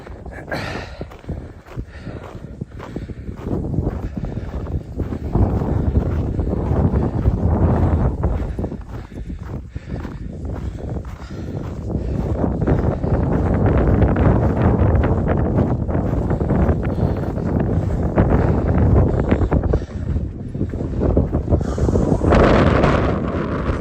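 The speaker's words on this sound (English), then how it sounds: "That wind is ridiculous." Strong, cold wind buffets the microphone on a mountain trail with blowing snow, a loud continuous roar that rises and falls in gusts for the whole stretch, with no voices over it.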